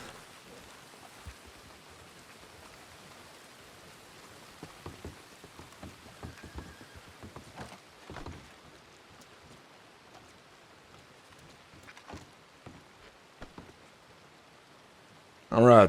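Steady rain falls in the video game Red Dead Redemption 2, a soft, even patter with scattered drip impacts and some rumbling bursts throughout, with talk in the background.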